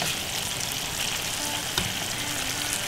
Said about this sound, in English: I'm frying up at the moment